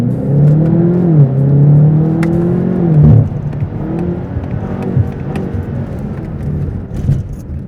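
A BMW M8 Competition coupe's exhaust roars loudly and close as it accelerates through rising gear pulls, then drops into lower engine-braking burble with scattered crackles, the strained tone falling and settling into a rougher idle-like drone.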